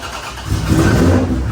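A car engine, newly replaced, cranks and catches, rising into a loud, steady rumble that builds over a second or so.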